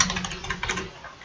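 Quick bursts of computer keyboard typing, close and fairly loud, with irregular clicking keystrokes for about a second before stopping.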